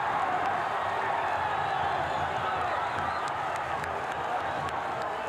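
Guarani football supporters in a stadium make a steady, distant crowd roar with scattered claps and cheers, continuous and fairly even with no break.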